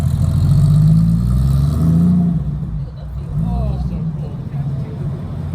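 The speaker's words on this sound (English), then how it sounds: "An RWB Porsche driving down the street." An RWB Porsche drives along a street, its engine revving loud and close, then easing off as it passes and recedes; a voice talks over the engine noise.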